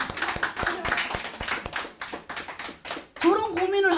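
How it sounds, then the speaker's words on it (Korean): A church congregation claps during a sermon, giving a burst of rhythmic clapping for about three seconds before a voice starts speaking. "박수 한번 쳐줘요."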